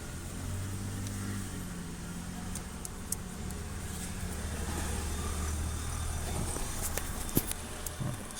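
Inside a car cabin, a low engine and road rumble runs steadily throughout, with a few faint clicks and handling knocks close by.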